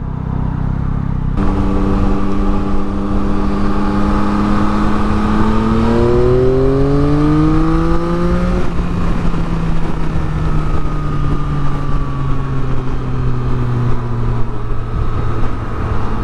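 Yamaha MT-09 motorcycle pulling hard in second gear from about 4,000 RPM, a loud close engine tone rising steadily in pitch, then dropping away as the throttle eases, with constant wind and road noise.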